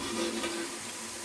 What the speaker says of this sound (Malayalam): തക്കാളി ഒന്ന് നന്നായിട്ട് വെന്തുടയണം. അതുവരെ ഒന്ന് ഇളക്കി കൊടുക്കുക.